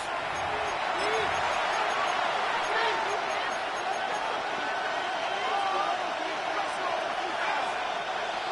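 Stadium crowd noise in an EA Sports NFL video game, a steady, loud, continuous roar with faint voices and whoops rising from the mass.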